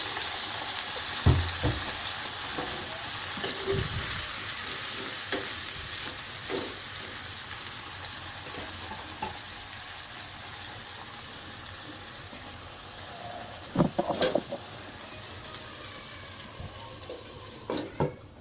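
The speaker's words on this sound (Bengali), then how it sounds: "এগুলো এখন আমি তেলের মধ্যে ভাজবো।" Pieces of young sweet pumpkin fry in oil, a soft even sizzle running throughout with scattered stirring knocks and a brief clatter of utensils near the end.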